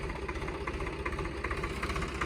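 A Swaraj 855 tractor engine runs steadily while driving a heavy rotavator, a continuous throbbing diesel drone with a rough, pulsing mechanical texture and no talking.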